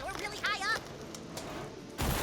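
Firecrackers go off in the video game South Park: The Fractured but Whole, a few sharp cracking bursts at moderate loudness, mixed under game voices and someone talking.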